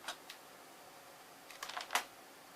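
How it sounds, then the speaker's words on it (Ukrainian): Keys are pressed on a computer keyboard as an old tube-era computer is used, with a few sparse clicks and then a quick cluster of taps, faint and close in a quiet room. "От бачите, як можна з клавіатури користуватися компухтером?"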